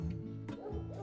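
A puppy barking near a steak restaurant in Playa del Carmen, a few short, high yips and whimpers close by, spaced unevenly over about a second.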